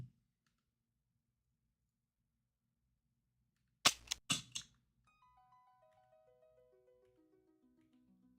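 Sound effects from a zombie video game in development: a quick burst of sharp gunshot cracks, followed by a descending series of soft, evenly spaced tones fading in and out, with no talking.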